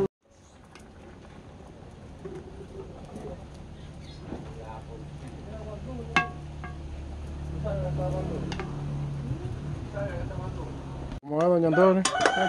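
Chickens cluck and a rooster crows amid a busy outdoor scene, with people talking nearby and a steady low rumble underneath.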